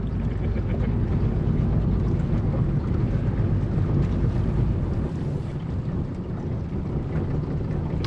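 A two-stroke boat motor drones steadily on the water, buffeted by heavy wind rumble on the microphone, a continuous loud wash with no talking.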